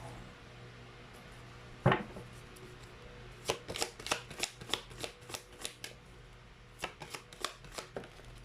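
Tarot cards are shuffled near at hand during a card reading. One sharp riffle comes first, then a run of crisp, uneven flicks and slaps as the deck is cut and shuffled again and again, with no talk.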